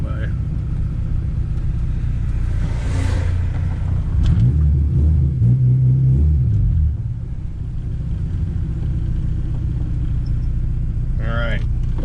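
A K24-swapped Honda Integra on street tires rumbles nearby at a low idle, swelling into a stronger rev for a few seconds midway before dropping back, with a voice talking over the engine.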